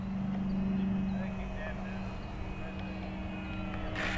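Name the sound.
FMS Voodoo P-51 Mustang RC plane landing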